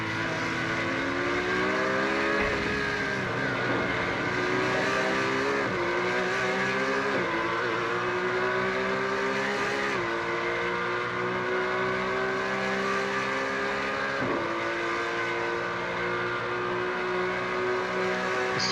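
Porsche race cars lapping Imola in a racing game: several engines drone loudly together, their pitch climbing through the gears and dropping sharply at each shift and under braking, with no one talking.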